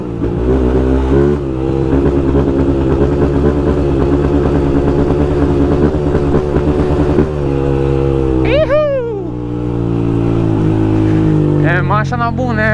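A 2024 Honda Start 160 motorcycle fitted with a GRS exhaust riding at night, its engine droning close and loud with revs rising and falling, while other bikes pass with brief high-pitched revving toward the end.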